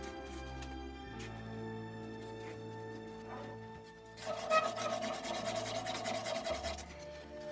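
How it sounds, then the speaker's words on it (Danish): Hand sanding of a carved wooden bird, a soft steady rasping rub that grows louder and denser in the second half, close and quiet with no talk. "Så pudser jeg lige uden den kører rundt herude."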